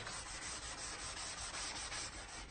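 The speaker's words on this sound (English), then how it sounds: "I recommend that you sand your piece for a more professional finish" Close, steady rasping as sandpaper is rubbed over a wooden furniture piece to take the shine off the old finish, a continuous scratchy rhythm with slight pulses from each stroke.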